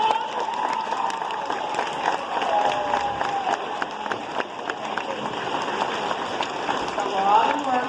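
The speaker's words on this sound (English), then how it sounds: "So give her a round of applause." An elementary school audience claps after a Veterans Day program, steady dense applause filling the room throughout, fairly loud with some crowd noise mixed in.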